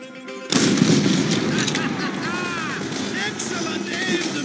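Gunfire in the video game Call of Duty: World at War, a dense, continuous rattle of shots and battle noise starting abruptly after a short pause and holding loud throughout, with shouted voices mixed in.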